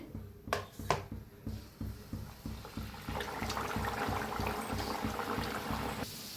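Banana-jaggery puris frying in hot oil, starting with a few clinks and soft bubbling, then building into a steady close crackle and sizzle.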